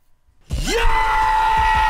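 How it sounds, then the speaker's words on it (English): A man screams loudly after a moment of silence, his voice sliding sharply upward and then holding a long, strained, sustained yell close to the microphone. "this guy's screaming"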